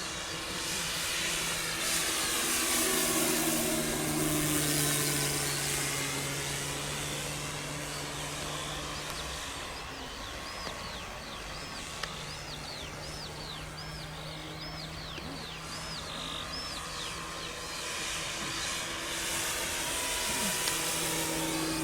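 Seagull Grasshopper electric RC model airplane on a 6S battery with an 80-amp speed controller, its motor whine rising and falling in pitch as it passes overhead, moderate and distant against outdoor background.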